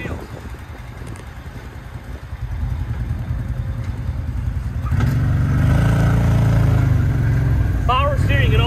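A Massimo Dominator X4 1000cc UTV engine runs steadily, then swells louder partway through as it pulls away, a close, continuous mid-pitched drone with a brief squeal near the end.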